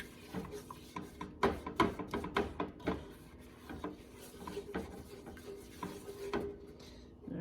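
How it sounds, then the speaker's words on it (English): A spoon stirs chicken, sausage and shrimp gumbo ingredients in a pot, giving irregular scraping and knocking strokes in quick uneven bursts, close and fairly quiet, with no voice over it. "Just getting that all mixed well"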